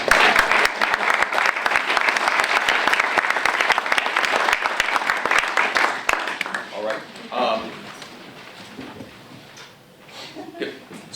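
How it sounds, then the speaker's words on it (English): An audience at a Christmas event on a museum green breaks into loud, dense applause that carries on steadily for several seconds, then thins into scattered claps and murmuring voices. "can we also have a round of applause for Mr. Scorsese Pascal"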